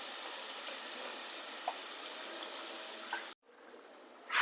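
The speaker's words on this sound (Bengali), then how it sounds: "এখন পরিমাণ মতো জল দিয়ে দিচ্ছি।" Water poured into a pan of frying fish curry with cauliflower and potato, a steady close hiss and sizzle that cuts off abruptly, followed by quieter bubbling and a final rising burst of sizzle.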